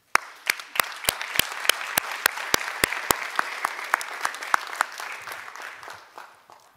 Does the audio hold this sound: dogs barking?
no